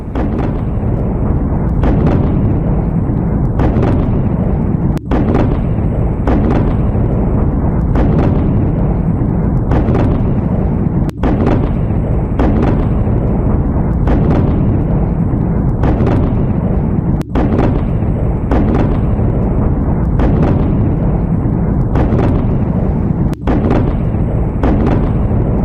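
Explosions from an attack in Iran: a loud, continuous rumbling roar punctuated by regularly repeating heavy booms, one every second or two, with no let-up.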